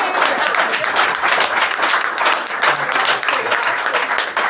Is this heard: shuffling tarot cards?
no